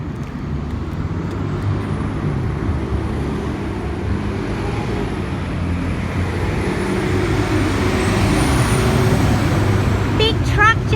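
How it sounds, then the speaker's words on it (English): A big truck rumbles past on a nearby road, a steady heavy engine roar that swells and fades, heard outdoors during a walking therapy session with a faint high whine above it. "Big truck just went past."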